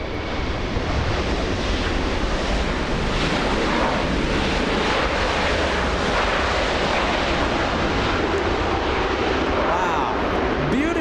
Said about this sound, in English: Such a smooth landing.